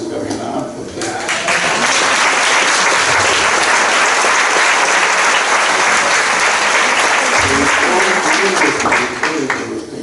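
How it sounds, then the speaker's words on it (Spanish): A seated audience at a conversation event marking the fiftieth anniversary of Los Caifanes breaks into loud, sustained applause for Fernando Pérez Gavilán, swelling after the first second and continuing dense and steady for about ten seconds. "Y un aplauso quisiera pedirles para don Fernando Pérez Gavilán"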